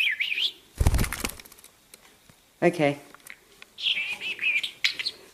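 A pet budgie chirps in short high warbling bursts near the microphone at the start and again toward the end, with a flutter of wings and a person's speech in between.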